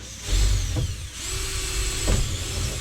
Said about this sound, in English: I'll use the method of drilling excessive holes until I find something to screw into behind it